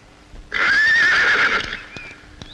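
A racehorse gives one loud, close, sustained whinny lasting about a second, trailing off into faint clip-clop and background noise.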